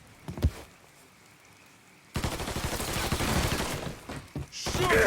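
Gunfire in the video game Mafia 3 Definitive Edition: one early shot, then a sudden, sustained barrage of dense, overlapping automatic fire with heavy thuds, loud and close, with no talking.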